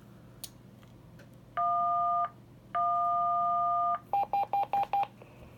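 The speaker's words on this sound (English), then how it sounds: "Now I'm going to send the tones, and you're going to see only the 878 is activating." Two-tone signaling tones sent to Anytone radios: two long sustained dual-pitch tones, the second longer, followed by five short evenly spaced beeps, loud and clean over a quiet background hum.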